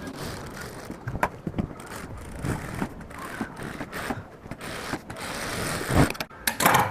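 A sewing machine stitches a blouse back neck, its mechanism clattering in quick, uneven bursts of clicks and whirs that run steadily for several seconds at close range.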